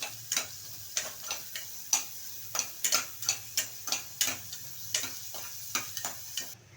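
Chopped onions sautéing in a pan for mushroom gravy, with a steady run of sharp spatula taps and scrapes in an even rhythm over a faint, low sizzle, close and without voices.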